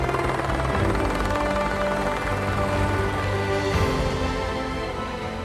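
A helicopter flies toward a remote Norwegian mountain cabin in winter, its rotor thumping in a steady, loud drone with low engine hum that holds constant throughout, no voices present.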